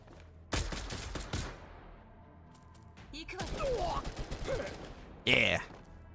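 Gunfire in the tactical video game Girls Frontline 2: Exilium: a few sharp shots and a burst of rapid fire, moderately loud, mixed with game effects and speech.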